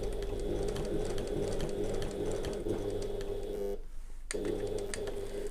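A domestic sewing machine runs steadily at a very short stitch length of 1 while sewing a handbag, its rapid mechanical whirring continuous and close, with a brief pause near the end before it starts up again.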